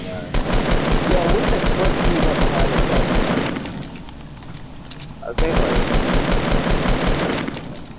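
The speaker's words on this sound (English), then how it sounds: "He's shooting at me with a semi" Fortnite gameplay with a semi-automatic rifle firing in rapid, loud, close bursts, breaking off for a short lull and then starting again, under occasional game noise and no clear talk.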